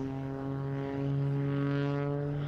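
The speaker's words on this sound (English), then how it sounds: "The airplane uses a lot of gyroscopic tumbling capabilities. Very lightweight, very high power engines" MXS-RH aerobatic airplane at an air show, its lightweight, high-power engine droning in a steady harmonic tone that rises slightly in pitch, distant and fairly faint, with no voices over it.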